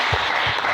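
Congregation applauding to acclaim the Lord at a church service, a loud, dense wash of clapping filling the whole brief moment.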